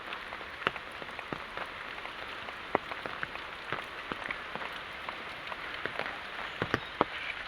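Light monsoon rain falls steadily in the Konkan, with scattered distinct drops tapping a surface over a soft continuous hiss.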